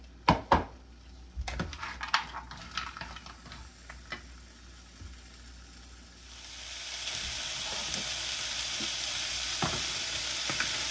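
Okra sautés in ghee in a pan with clinks and knocks of stirring at first, then a steady hiss of sizzling that grows louder and continues to the end.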